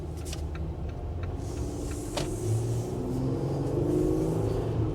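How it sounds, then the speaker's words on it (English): A 2025 Jeep Gladiator Sport Nighthawk's V6 engine runs with a deep, steady low rumble that swells slightly toward the end, close and continuous, with no talking. "V6 sounds a lot meaner, a lot deeper than I thought it would."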